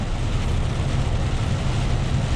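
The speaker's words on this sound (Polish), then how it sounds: "Dosyć wieje" Steady outdoor wind in Norway buffets the microphone in a continuous broad roar with heavy low rumble and no pauses, loud and close throughout.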